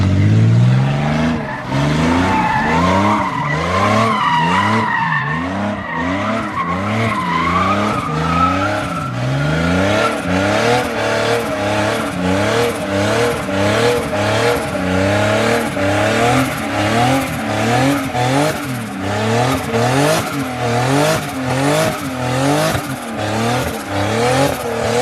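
The engine of a turbocharged BMW E36 misfires while driving, a loud, close, uneven stutter that chops and pulses rhythmically through repeated revs and shifts, with no talk over it.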